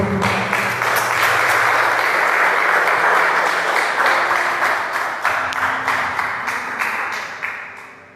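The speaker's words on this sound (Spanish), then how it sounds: "Denle un aplauso al Señor." A church congregation gives a long round of applause, many hands clapping densely and evenly at first, then gradually thinning into separate claps and tapering away toward the end, with faint voices underneath.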